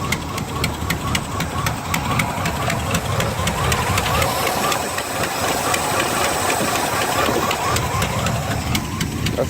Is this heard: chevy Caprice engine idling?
yes